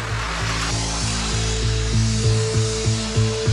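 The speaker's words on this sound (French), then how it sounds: "À peine le souffleur démarre, il se retrouve seul dans un brouillard de poussière." Industrial air blower at a metal-shredding site with toxic dust, a loud broadband rushing roar over a low droning hum, with repeated rhythmic mechanical knocks throughout.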